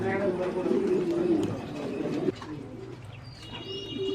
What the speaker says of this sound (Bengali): এখানে আমরা ব্লু স্ট্রেচার আরেক জোড়া কবুতর দেখতে পাচ্ছি।